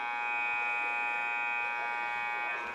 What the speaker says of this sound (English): So with that buzzer sound, the second half is officially going to begin.